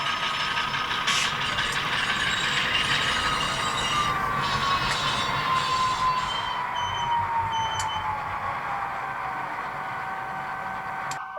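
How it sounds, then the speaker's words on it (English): Brake squeal from an N scale Dash 8 model locomotive's sound system, a thin high tone sliding slowly downward as the unit stops, over steady mechanical rumble and clanking, loud and close with no talking. "you've got the brake squeal when you come to a stop"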